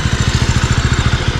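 A motorcycle engine idles close by, a steady low pulsing thump repeating at an even rhythm for a brief stretch, with no voices over it.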